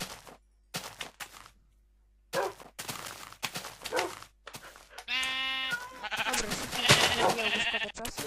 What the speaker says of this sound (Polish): Kolejnym naszym potworem jest owca.